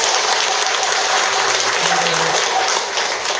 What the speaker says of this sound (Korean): 이런 자리를 마련해주신 우리 마하프로님께 큰 박수 부탁드립니다.